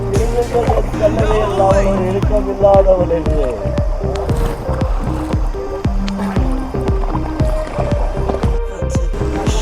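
A boat moves on river water at Hogenakkal Falls, with splashing and gurgling water close by. Voices and music run over it.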